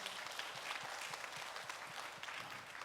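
A Korean church congregation applauding to encourage a family, a dense continuous roar of many hands clapping at a distance, quiet and even, with faint low thumps and murmured voices beneath.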